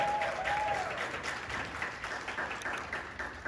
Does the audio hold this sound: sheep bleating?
no